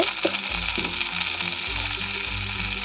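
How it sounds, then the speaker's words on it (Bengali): Mustard seeds, dried red chillies and curry leaves fry in hot oil with a steady bright sizzle, punctuated by short crackling bursts and light stirring clinks close by. "1 চামচ সর্ষে দিয়েছি আর 2টো কারি পাতা দেব। ভালো করে ভেজে নেব।"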